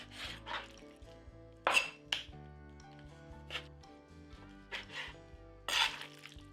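Knife slicing raw chicken thighs into strips on a cutting board, with scattered soft taps and a few sharper knocks of the blade against the board, close and fairly quiet.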